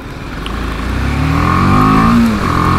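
A BMW G310 GS motorcycle pulls hard on a throttle roll-on, its engine note climbing steadily and loud throughout with wind rush, no talking.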